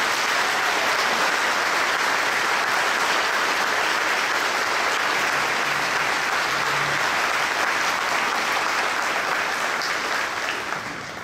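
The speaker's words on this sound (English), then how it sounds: "If you could please give all these students a warm round of applause" Students at an education foundation banquet receive a warm, sustained round of applause, dense steady clapping from a large audience that holds loud for about eleven seconds before easing slightly at the close.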